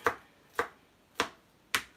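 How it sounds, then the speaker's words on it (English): A knife chops a single garlic clove on a cutting board in four crisp, evenly spaced taps, close and clear against a quiet kitchen background. "I'm just chopping this, just a single clove of garlic"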